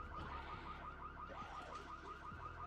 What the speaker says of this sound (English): Sounds like the alarm is over this way.